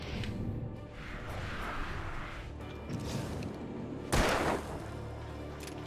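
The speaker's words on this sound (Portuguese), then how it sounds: "Mandei outro tiro daqueles." A single loud gunshot fired in the video game Alan Wake, a sharp broadband burst near the four-second mark standing out over a dense, continuous game soundscape, with no speech.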